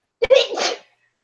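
One loud, close sneeze: a quick sharp intake followed by a forceful burst that stops abruptly, then silence.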